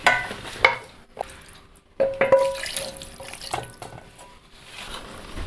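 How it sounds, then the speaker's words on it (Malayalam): Water splashes and pours in short bursts into a mixer jar, with clinks and pauses between pours, close by. "കുറച്ച് വെള്ളം കൂടെ ചേർക്കാം."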